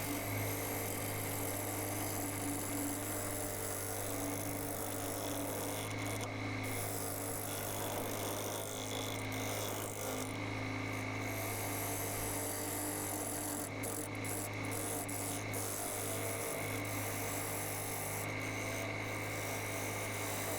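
A wood lathe spinning an ash bowl at 800 RPM, a steady continuous motor hum with a constant low tone and tool-rest vibration, with faint occasional scraping ticks over it.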